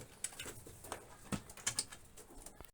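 Pigeons in a coop coo softly, with light wing flutters and shuffling, faint and close, sporadic calls rising over a quiet background.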